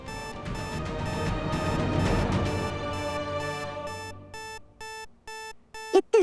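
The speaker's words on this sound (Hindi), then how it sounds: "ये तो हमारी तिजोरी का अलार्म है।" A safe's alarm ringing indoors, a loud electronic tone that first rings continuously and then breaks into short repeated beeps, heard alone.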